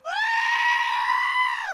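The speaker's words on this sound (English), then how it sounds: "We need to play the screeching goat sound in reverse." A goat's screeching bleat played in reverse, one sustained harmonic cry rising in at the start and cutting off abruptly at the end, loud and alone.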